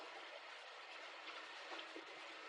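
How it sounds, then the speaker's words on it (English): An express steam train running through the Dutch countryside, a steady rolling rumble with faint clickety-clack of wheels, heard at a distance and fairly quiet, with no talk. "They're a little scared for the sounds of the train"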